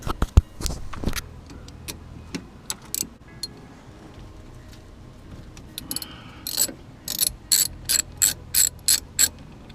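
A ratchet loosens a 12mm brake caliper bolt on a 2002–2007 Jeep Liberty KJ, scattered metallic clicks and clanks giving way to a quick run of close, rhythmic ratcheting strokes.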